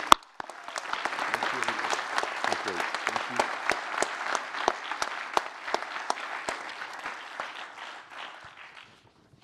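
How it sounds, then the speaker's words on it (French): An audience at a cooperative construction federation congress applauds a medal recipient with lively, sustained clapping and sharp individual claps. A brief spoken word opens it, and the applause tapers off at the end. "on t'applaudit bien fort"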